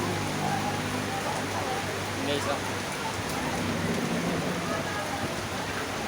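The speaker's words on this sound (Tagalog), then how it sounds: "Ang lakas ng ulan." Heavy rain pours down in a dense, constant wash of noise, with a voice speaking briefly over it.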